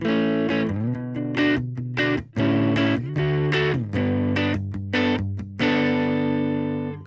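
Distorted electric guitar chords on the neck pickup ring out in short strummed bursts with brief gaps, warm and full-bodied, played alone with no talking.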